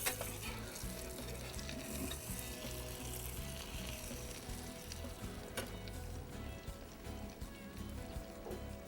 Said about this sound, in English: Does it matter what kind of oils you use when you're frying like this?